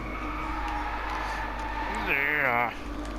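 An Audi R8 V10 TDI on the Madras racetrack in India, engine droning steadily before a rising, wavering tire squeal near the end as the car turns into a corner; a voice talks throughout.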